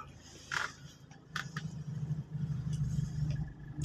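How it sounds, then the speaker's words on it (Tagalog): Cabin ride in a Toyota Fortuner: a low, steady engine and road rumble that swells slightly, broken by a few light clicks and knocks inside the car. No one speaks. "Oh, so nasa Toyota Fortuner tayo ngayon, guys, on board."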